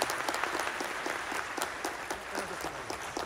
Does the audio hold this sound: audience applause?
yes